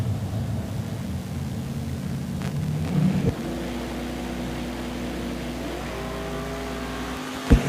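A dragster and a second car launch down the drag strip at Woodburn, Oregon during a Summer Showdown race, with a rough idle giving way to a loud, sustained engine roar and a sharp crack near the end.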